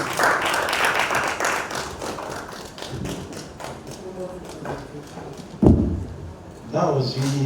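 Audience applause at an African family, culture and values conference follows a presentation. Dense clapping fills the first few seconds, then thins out as voices take over, with a few scattered claps and thuds later.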